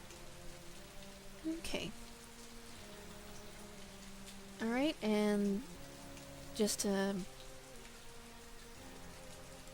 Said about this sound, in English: Just a drizzle. It's going to get much worse.